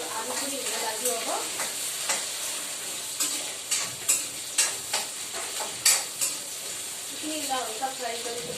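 Diced potatoes and sponge gourd frying in a pan, a steady sizzle with repeated clicking scrapes of a spatula stirring in an uneven rhythm, close by, with a voice talking faintly at points.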